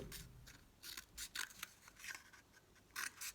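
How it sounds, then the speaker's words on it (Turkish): Scissors snip through a cardboard roll for a craft project, a quiet close series of short crisp cuts in irregular bursts with pauses between them. "rulolarımızı makas yardımıyla belirli bir noktasından ayırıp kesmeye başlıyoruz"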